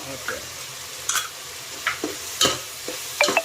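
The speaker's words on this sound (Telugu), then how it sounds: "అల్లం వెల్లుల్లి పేస్ట్ వేగిన తర్వాత" Ginger garlic paste frying with tomatoes in a pan for vegetable biryani: a steady low sizzle runs throughout, broken by several short scraping stirs of a spoon every half second or so, close and fairly clear.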